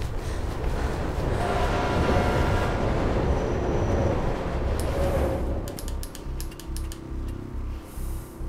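A metro train rumbles past in the video game Mirror's Edge with a loud, rushing roar and wheel noise that fades into rhythmic clacking of rail joints and a few sharp metallic clicks.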